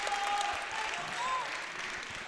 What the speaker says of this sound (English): The crowd getting a little wild, and there it is.